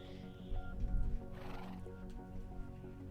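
A horse in the Minecraft video game gives a single loud, close whinny midway, layered over a steady bed of sustained tones.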